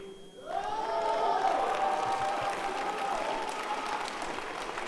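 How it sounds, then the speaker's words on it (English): Young ladies clapping together in a loud, sustained burst of applause that swells within the first half-second and holds steady to the end, with a faint tonal hum running underneath. "All the young ladies at least clapping,"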